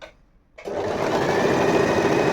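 Usha electric sewing machine stitching a fall onto a saree: a brief quiet moment, then a steady, fast, close mechanical whirr that runs to the end.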